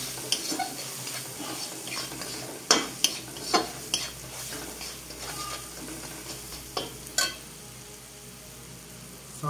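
Egg chop filling, seasoned with cumin powder and salt, fries in a pan to a soft, steady sizzle. Several sharp clicks and scrapes from a spatula punctuate it at uneven intervals, with no talking.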